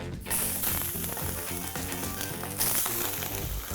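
Teriyaki tofu sizzling in a hot pan, a dense steady crackle that starts just after a brief quiet moment and continues loud and close, with no voices.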